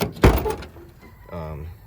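A 1989 Chevrolet Camaro third-gen door shutting against new tight aftermarket seals: one solid thunk early, then a quieter rattle as someone talks nearby.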